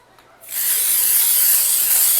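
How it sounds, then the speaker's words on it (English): Spray adhesive hisses steadily from an aerosol can onto a picture laid on a glass craft block, starting after a brief quiet moment and continuing as one close, loud, unbroken burst. "I spray right on top of the picture"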